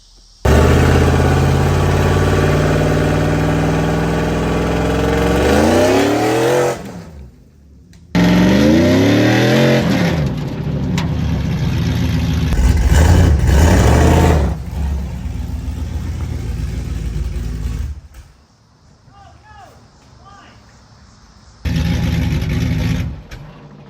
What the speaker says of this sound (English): we gotta try and do a burnout while we're here